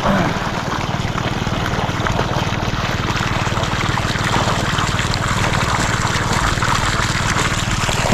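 Strong water flowing steadily, a loud, close, continuous rushing and gushing that holds unbroken throughout.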